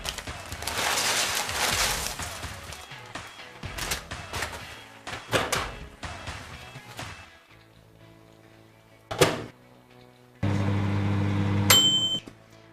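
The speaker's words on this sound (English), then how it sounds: "put it in the microwave for about 1 minute" A microwave oven runs with a bowl of tortilla chips inside, a low steady hum starting after scattered kitchen clatter and knocks, ending with a bright beep.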